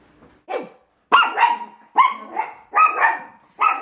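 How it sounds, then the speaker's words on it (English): A dog barks repeatedly indoors, five or six loud, sharp barks in an uneven rhythm with short gaps between them, close to the microphone and alone. "He likes to bark at everything."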